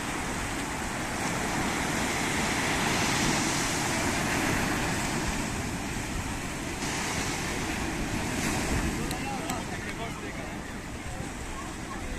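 Ocean waves break steadily on the shore at Puerto de Santiago, Tenerife, in the evening, a constant loud wash of surf mixed with gusting wind noise on the microphone.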